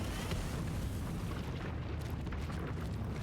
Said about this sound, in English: Explosion here.